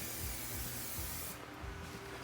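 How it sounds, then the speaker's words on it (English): Cooking spray hisses onto a baking pan in a steady, close spray that cuts off partway through, leaving a quieter background. "I got a little baking pan here. Just give it a quick spray with some"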